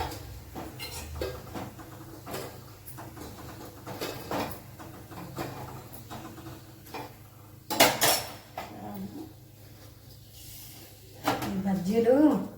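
Fried jasmine-flower bajjis lifted from a frying pan onto a plate, with scattered clinks and scrapes of utensils against cookware and a couple of louder clattery bursts over a steady kitchen hum, while a voice talks throughout.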